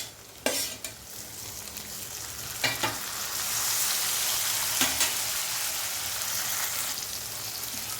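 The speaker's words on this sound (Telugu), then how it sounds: "ఉల్లిపాయలు బాగా వేగేయండి, టమాటా వేసుకుందాం." Onions and tomato fry in a pan for a fish curry, a loud continuous sizzle that swells louder midway, broken by a few sharp scrapes and knocks of a spoon stirring, with no talk.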